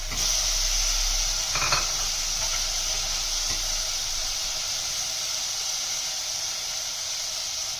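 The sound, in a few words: tomatoes stirred and frying in sizzling masala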